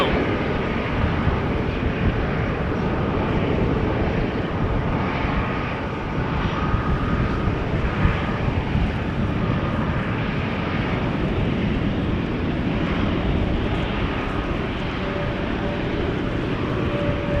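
On a wet, rainy day at Amsterdam Schiphol, an airliner passes with a loud, sustained engine roar and the wash of wet air, holding steady throughout with no talk.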